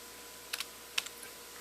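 A few light keystrokes tapped on a computer keyboard in a quiet lab, two brief clusters of soft clicks, close and isolated.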